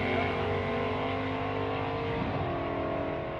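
A drag racing car roars steadily at full throttle down the strip at Warwick Dragway. It is loud and close, and there is no talk over it.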